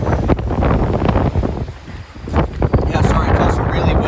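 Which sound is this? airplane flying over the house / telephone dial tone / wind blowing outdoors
wind blowing outdoors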